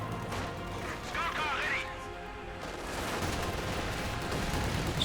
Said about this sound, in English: Incendiary artillery barrage going down on my positions.